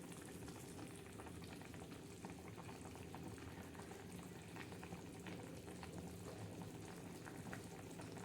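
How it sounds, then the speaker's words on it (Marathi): Chicken curry simmers in a pot over a low gas flame, giving a faint, steady bubbling and sizzling that continues without a break and with no talking. "भाजी शिजत आहे मैत्रिणींनो आपली छान मस्त"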